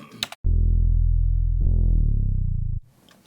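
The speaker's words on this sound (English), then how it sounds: "We have another one where there's a bass slide at the end." A distorted real bass guitar sustains a low note, then jumps and slides through a higher pitch at the phrase end, loud and close, with brief clicks before and soft room noise after.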